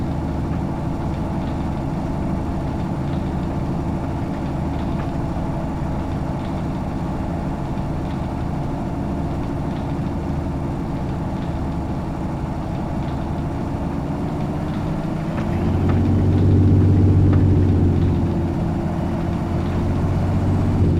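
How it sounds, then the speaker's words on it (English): A cold tractor engine idles at close range, a steady deep rumble that holds for a long stretch, then grows louder and heavier for a few seconds before easing back. "Gotta be careful on the engine, it's still cold."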